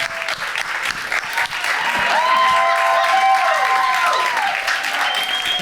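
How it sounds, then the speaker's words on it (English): A comedy show audience applauds and cheers for comedian Pete Lee, a full, sustained burst of clapping with whoops rising and holding loud across the room. "give it a round of applause for Pete Lee"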